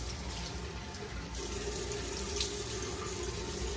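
Steady tap water runs into a sink during face washing with a Tatcha cleanser, a continuous close splashing hiss that grows slightly fuller partway through, with no talking.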